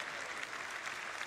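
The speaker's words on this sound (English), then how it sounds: "everybody, clap" Audience clapping steadily at a Citizen Con event, a brief dense burst of applause from a crowd.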